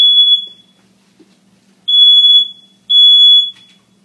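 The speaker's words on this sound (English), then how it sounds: "Oop, smoke alarm." Three loud, piercing electronic beeps from a smoke alarm set off by pizza sauce spilling in the oven, each about half a second, with pauses between them in a quiet room.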